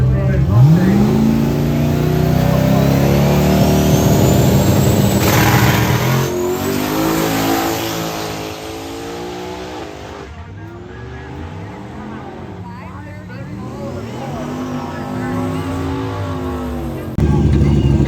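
Drag racing cars on a strip launch and accelerate hard, engines rising in pitch through repeated gear changes, loud and close at first, then fading down the track while a voice talks over them.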